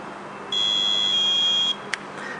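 A hotel room control panel beeps as one steady high tone held for over a second, followed by a short faint blip, close by with no talking.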